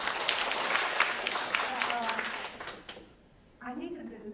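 Audience at a panel discussion clapping for about three seconds, a moderately loud patter of hands that fades out before a voice starts speaking.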